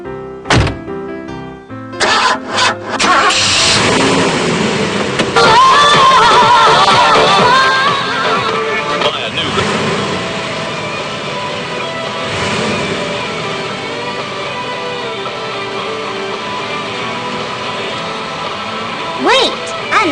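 A car door thunks shut, then the engine runs and the car pulls away in a steady, loud drone with shifting road noise, while a voice talks over it.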